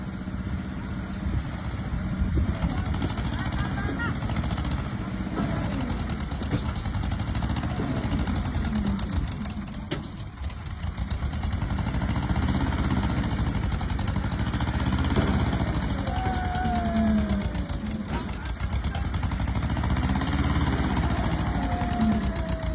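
A tractor engine labours under a heavy load, a steady mid-pitched drone running alone throughout, fairly distant and moderate in level.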